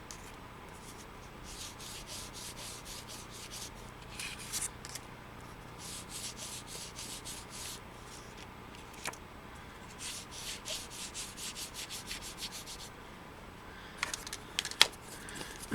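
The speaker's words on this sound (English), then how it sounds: "just hold it by the corners and then just wipe some off" Black paint being wiped off a scratched frame with a cloth, soft faint rubbing strokes repeating in bursts, with a few light taps near the end.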